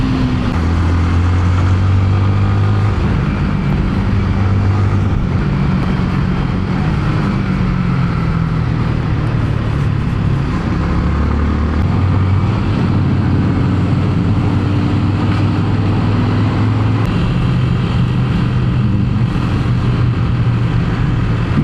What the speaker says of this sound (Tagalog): Malala traffic dito pag weekdays.